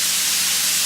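Bean sprouts, mushrooms and peppers sizzling in a hot pan for a Chinese stir fry, a loud continuous hiss with no break.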